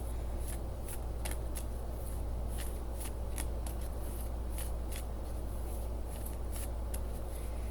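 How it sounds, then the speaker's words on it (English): Rapid riffling of a deck of cards being shuffled, a series of crisp, close clicking bursts repeating over a steady low background hum. "Alright, so I'm going to shuffle and then pick 5 from this."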